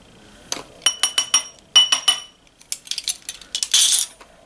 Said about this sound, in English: I'm just gonna take an 1/8 of a teaspoon of this black glitter